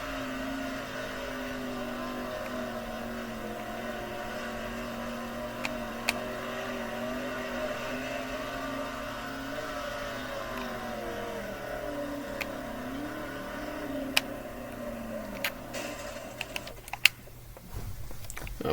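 A sprint car from the World of Outlaws video game runs its final lap, its engine a steady, fairly quiet drone that rises and falls in pitch, with a few sharp clicks before it cuts off near the end.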